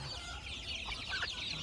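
A hen clucking at a roadside farm keeping country chickens beside a fish pond, a few short clucks against a steady outdoor background hiss, moderately close with no talk.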